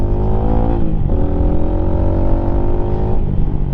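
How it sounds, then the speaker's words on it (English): A Lifan motorcycle engine revs steadily and loudly close by, its pitch sagging and climbing again around gear changes, with no talking over the continuous engine drone. "Rev it up, put it into first."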